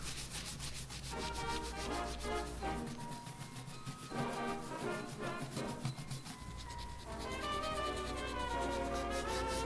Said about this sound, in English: we're going to give a really good scrub here to all of the carved wood and the whole face